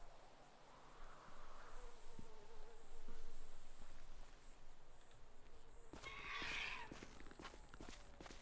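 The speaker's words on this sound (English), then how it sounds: "bugs, birds." Bugs and birds fill a GTA V outdoor scene: a low, steady insect buzz with a brief, brighter burst of chirping near the end, all faint and distant.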